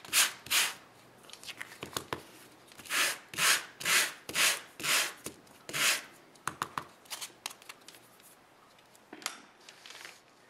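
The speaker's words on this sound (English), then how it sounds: "You're also going to need the new sanding tool by Stampin' Up," Embossed paper being sanded with a Stampin' Up sanding tool, a series of close, loud rasping strokes in an uneven rhythm, about a dozen scrubs followed by lighter scratches.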